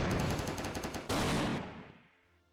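Rapid gunfire from a WW2 turn-based hex strategy game, Armchair Commander: a dense burst of machine-gun rattle, then a sharper, louder volley that fades out over the last second.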